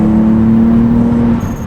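A 2026 BMW M2 rear-wheel-drive sports car under throttle, a loud steady engine drone with a strong tone holding close and then easing off slightly near the end.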